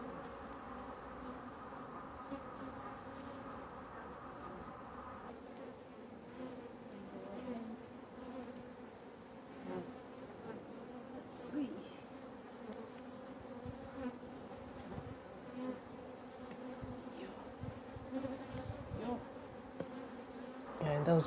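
Many African honey bees hum and buzz around a hive in a steady, dense drone, fairly close, with individual insects occasionally passing louder.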